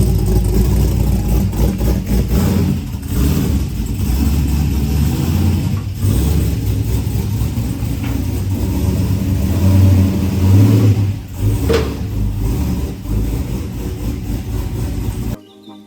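An LS3 V8 in a Squarebody truck drones loudly and continuously on dyno rollers, a heavy low engine roar with revs swelling and easing, close up with no talk.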